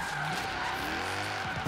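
Drifting car tires squealing in Forza Horizon 3, a continuous loud skid with steady engine drone throughout, no talk.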